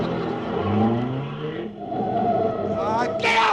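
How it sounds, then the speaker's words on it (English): A radio-show sound effect of a car starting and speeding off: an engine whines and revs with rising and falling pitch, then accelerates away with a squealing rush, loud and close, with a voice briefly over it. "I'm going to start the car and I'll watch it because I got a pretty fast pickup."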